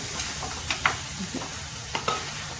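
Peas and potatoes fry in a pan while a utensil stirs them: a steady, faint sizzle runs underneath, broken by a few light scraping clicks and taps against the pan, with no voices.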